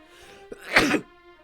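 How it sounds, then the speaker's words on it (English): A single sharp sneeze, brief and fairly loud, with a small intake just before and quiet background tone around it. "It's a super sneeze."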